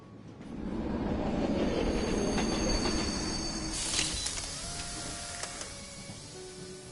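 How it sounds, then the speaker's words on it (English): Train rolling along the rails, a rumbling wheel drone with squealing wheel tones and clicking rail joints that swells, peaks, then eases into quieter rattling and faint squeal, no voices. "Is there anything different that you noticed about this train?"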